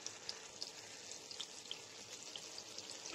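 Butter and kasuri methi sizzle steadily in a handi while cooking a vegetable curry, a faint, even frying hiss scattered with tiny crackling pops, with no talking.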